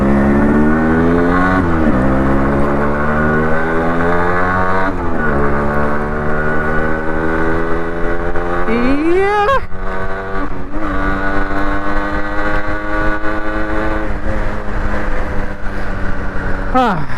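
A Yamaha RX 100 motorcycle rides along a highway, its engine droning loud and steady with rising and falling revs and pitch sweeps as it shifts through gears, close by throughout.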